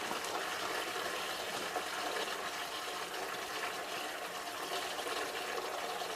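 Antifreeze draining steadily out of a Massey Harris 44 special engine, a continuous pouring, gushing liquid stream that stays close and fairly constant without pause, with no talk over it.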